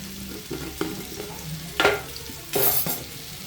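Food frying and being stirred in a pan on low heat, with a soft steady sizzle broken by scraping spoon strokes and a couple of louder bursts of sizzling.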